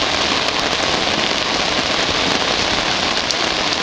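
Heavy rain drums on a boat lying at anchor off Gibraltar, a loud, constant close-up roar of drops with faint scattered ticks, no voices.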